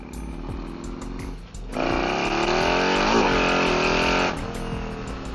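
A 2024-or-later Harley touring motorcycle on a stock rear tire accelerates hard on a cold road, its engine rising into a loud, strained roar for a few seconds before easing back, heard close from the rider's position.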